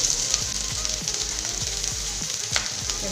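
Vegetables sautéing in a hot pan for Manchurian, a steady loud sizzle with repeated scraping stir strokes of a spatula throughout, no talking.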